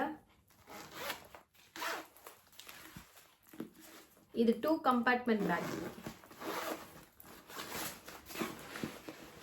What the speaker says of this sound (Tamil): 2 ஜிப்புமே ஓப்பன் பண்ணியாச்சு.